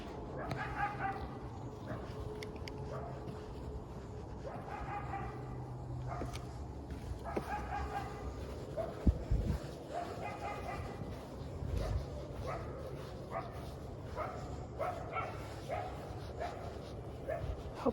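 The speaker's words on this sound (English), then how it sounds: "I think it's a coyote." Coyote yipping and howling outdoors at night, with repeated high wavering calls and yips over steady background noise, fairly faint and distant.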